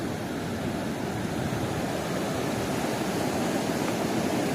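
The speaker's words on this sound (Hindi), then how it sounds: "ये जो पानी है ये सारा इधर पीछे ग्लेशियर्स जो हैं उनमें पिघल के इस साइड पे आ रहा है" Glacial meltwater stream rushing beneath a sturdy wooden bridge in a mountain valley near Skardu, Pakistan; a steady, dense broadband roar of flowing water fills the whole stretch at close range, with no talking.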